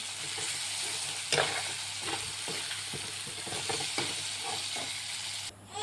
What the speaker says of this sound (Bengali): আজকে মাংসের মধ্যে জল দেবো না, ভাজি খাবো।